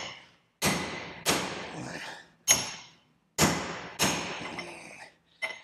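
Hammer blows on a car shifter isolator bushing, six heavy metallic thuds spaced about a second apart, loud and close, each ringing briefly before silence.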